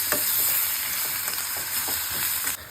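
Tomatoes, ginger and garlic sautéing in a pan, a dense continuous sizzle close up with faint periodic stirring scrapes beneath it, cutting off abruptly at the end.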